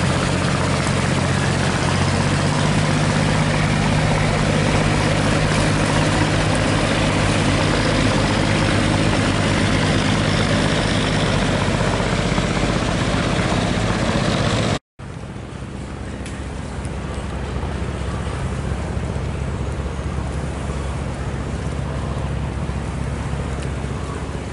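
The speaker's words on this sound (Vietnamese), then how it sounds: "Chiếc ghe sắt này là đang chở cát rất là khẩm, và nó quay đầu" Engine of an iron barge heavily loaded with sand as it turns on a river, a steady low diesel rumble and drone heard from a distance, continuous with a brief cut partway.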